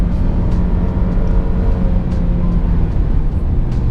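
Lexus IS200t or Infiniti Q50 2.0t sports sedan accelerating in sport mode on a country road, a steady loud engine drone with road rumble throughout, heard from inside the cabin.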